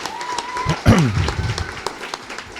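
An audience at a novel's book presentation claps to welcome the author, scattered applause rising amid voices and a shout nearby, moderately loud and fading toward the end.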